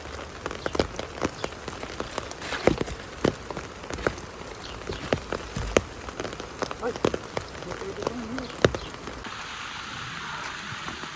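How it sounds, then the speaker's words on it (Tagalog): Rain pattering steadily on leaves and surfaces outdoors while wild mushrooms are gathered, with scattered louder drops landing close by; toward the end the patter thins into a softer, even hiss. "Kapag ganito umuulan po"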